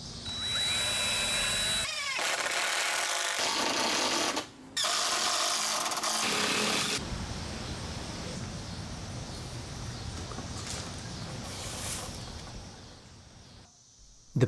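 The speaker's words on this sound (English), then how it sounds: "I'm pre-drilling and then driving the hex head" A power drill whines in loud bursts, stopping and starting, pre-drilling and driving hex head screws into wood, with a steady grinding buzz running through most of the stretch.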